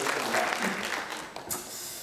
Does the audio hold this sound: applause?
yes